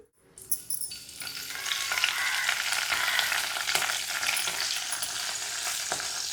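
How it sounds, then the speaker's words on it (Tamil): After a brief quiet start, mustard seeds and curry leaves hit hot oil, bursting into loud, continuous sizzling and crackling, with scattered sharp pops and spits throughout. "கடுகு கருவேப்பிலை தான் போட்டு தாளிக்கணும்"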